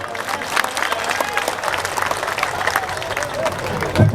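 Steady applause from a crowd at an Indian political rally, dense clapping continuing throughout at a fairly even level, swelling slightly near the end.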